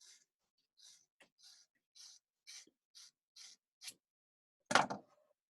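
Scissors snipping through very thick hair, a series of short crisp cuts in an uneven rhythm, quiet and close, ending in one louder, fuller snip.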